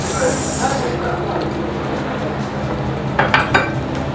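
Chicken and vegetables stir-frying in a pan during a catering class give a steady, close sizzle, with a few clatters of stirring toward the end.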